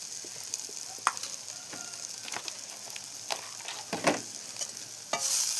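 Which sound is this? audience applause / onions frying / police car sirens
onions frying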